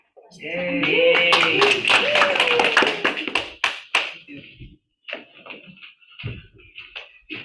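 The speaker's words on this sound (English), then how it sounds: "Please a round of applause for Toastmaster Nabila and all of the winners." An audience at a Toastmasters meeting claps for the winners, a dense burst of many hands that thins into scattered, separate claps with gaps between them.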